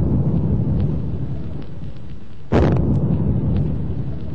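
Ceremonial cannon fire at a royal coronation: a single sharp boom bursts out halfway through over a steady, dense background rumble of the outdoor ceremony.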